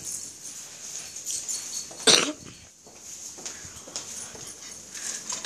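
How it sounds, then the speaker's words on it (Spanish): A dog whimpers and yips somewhere nearby indoors, with one sharp, louder yelp standing out over a steady background hiss and faint room noise. "Escuchan, se escuchan a mi perro."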